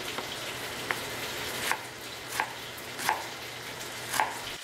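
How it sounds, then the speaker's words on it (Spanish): A knife chops a tomato on a cutting board in regular, evenly spaced taps, about five strokes, close by and over a faint background hiss. "vamos a picar pedazos pequeños"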